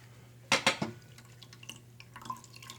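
Water drips and splashes in a small basin while a small tortoise is cleaned with plain warm water, a few close drops at first, then quieter scattered trickles and taps.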